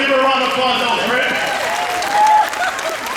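An audience applauds at a Texas migrant motivational conference. Steady, dense clapping fills the room with a brief swell near the end, and tonal voices or music carry over it.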